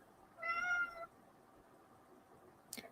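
A single clear meow from a house cat rises out of a quiet background hiss, followed by a brief faint click near the end.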